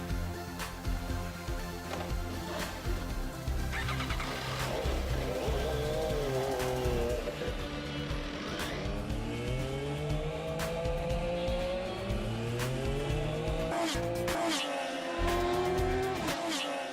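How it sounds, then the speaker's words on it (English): MV Agusta F3 motorcycle racing on a racetrack, its engine loud and continuous with rising and falling revs as it accelerates and shifts, a steady roar throughout with pitch sweeping up and down. "The race is on to test the bike on the track."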